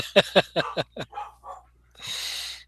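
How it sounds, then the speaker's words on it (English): A dog barks close by, a quick run of sharp barks that trail off into softer yips and whimpers, followed by a breathy huff. "Whose dog is that?"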